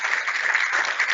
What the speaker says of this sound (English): you can give her a hand of applause